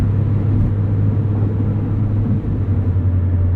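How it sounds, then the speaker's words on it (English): A steady, deep exhaust rumble from a modified 2019 Mazda MX-5 Miata with aftermarket exhaust, with a strong low hum, loud and close, holding an even drone throughout with only a slight dip partway. "This exhaust is fantastic. Very little drone. Sounds awesome."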